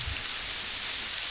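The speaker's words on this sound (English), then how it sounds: "just waiting for the rain to ease up" Steady rain falls outdoors under a stand of trees. The wash of hiss and patter stays even and fairly soft throughout, with no voices.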